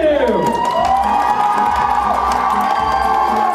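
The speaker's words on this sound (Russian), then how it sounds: "Аплодисменты!" A fashion show audience at an alternative runway finale applauds and cheers loudly, with whoops and shouts over dense clapping and a steady crowd roar close to the listener.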